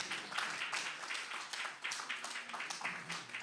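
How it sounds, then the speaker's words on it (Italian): Applause at a literary prize ceremony in Olbia, honouring a reader of passages: a quiet, steady patter of clapping from a modest audience, with no one speaking. "fare anche un applauso a Luana Scanu per le letture"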